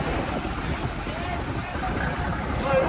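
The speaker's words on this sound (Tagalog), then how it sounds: "Grabe, lakas ng alon mga idol." Strong sea waves surge around a small boat in rough water, a continuous loud roar of water and wind buffeting close by.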